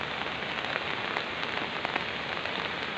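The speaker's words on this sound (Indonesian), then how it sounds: "sampai sekarang masih hujan gerimis" Steady light drizzle patters on surfaces near the Boyong River by Mount Merapi, a soft continuous hiss with occasional slightly louder drops, no voices.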